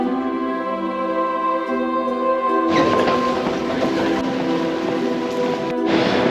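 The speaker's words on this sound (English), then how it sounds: "Now we're on the last train for today" Train running on rails, a steady rumble with a tonal hum that turns into a louder, broadband rush of wheel and track noise partway through, continuous and close, with no talking.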